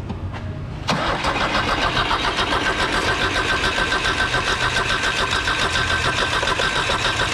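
A Subaru Justy engine being worked on cranks briefly, catches at about one second and then runs steadily at a fast, slightly uneven idle, loud and close, with no talking.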